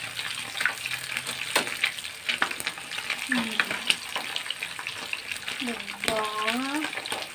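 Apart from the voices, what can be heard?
fish frying in hot oil in pan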